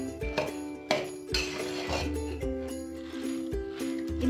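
Boondi being mixed by hand for laddu in a metal vessel, with repeated close scraping and clinking strokes in an irregular rhythm, each stroke sharp and separated by brief pauses.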